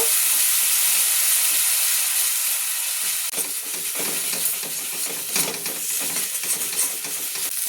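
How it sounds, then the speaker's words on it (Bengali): Boiled, ground onion paste with spices fries and is stirred in a pan for a bottle gourd dish, giving a steady loud sizzling hiss with scraping stirring strokes that grow busier and more uneven midway. "দিয়ে এবার এটাকে ভালোভাবে নাড়াচাড়া করে কষে নেব"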